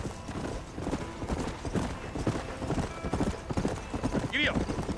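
Horse hooves clip-clop in a steady rhythm through the Red Dead Redemption game, with a short whinny near the end, all under a busy layer of wagon and ambient sound.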